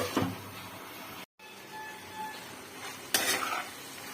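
Onions with black cumin seeds fry in a pan, a close sizzle with scraping stirs of a spatula against the pan, a brief dropout midway, then a louder burst of stirring near the end.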